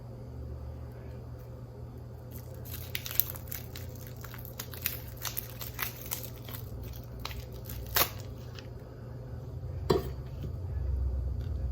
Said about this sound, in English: Let's cut the cheese. Let's start with the manchego cheese.